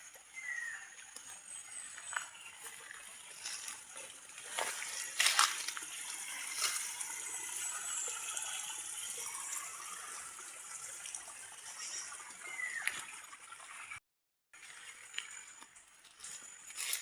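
Water flows steadily on a rural farm, a faint continuous rushing and trickling with scattered splashes and a brief dropout near the end.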